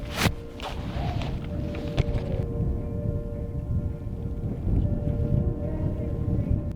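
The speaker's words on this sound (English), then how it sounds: "it's getting windy" Wind blowing across open homestead land on a 40-acre off-grid property, a steady broadband rush with low rumbling gusts that rise and fall throughout, no voices.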